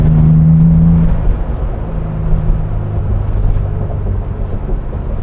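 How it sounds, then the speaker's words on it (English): A 2025 Ford Bronco Big Bend Sasquatch with a seven-speed manual gearbox blips its engine on a downshift, a sharp rev dropping into a lower, steadier engine drone, loud and close with no talking. "And a downshift there."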